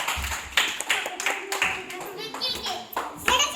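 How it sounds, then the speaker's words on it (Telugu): Children clap in short bursts during a classroom aiming and throwing activity, the claps sharp and fairly close, with an adult's voice and kids' chatter in between. "very good claps"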